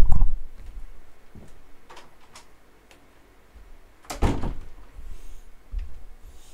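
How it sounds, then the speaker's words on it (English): An indoor door thuds shut with a solid knock partway through, among a few quieter bumps and clicks and faint room noise. "I'm gonna have to just close the door here"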